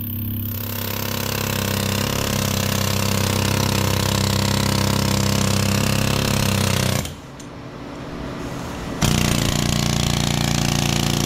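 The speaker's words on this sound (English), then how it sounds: "see if I can't just clean this up with the air chisel" Air chisel hammering copper windings out of an AC compressor: loud continuous rapid pneumatic rattling up close that drops out for about two seconds and then resumes just as loud.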